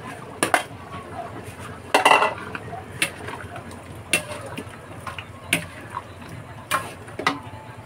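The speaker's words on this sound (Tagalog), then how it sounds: "Ilalagay ko na yung patatas at saka carrots ha." Potatoes and carrots are added to a cooking pot for chicken and pork apritada, heard as scattered knocks and clatters of pieces and utensils against the pot at irregular intervals, mostly close and fairly sharp.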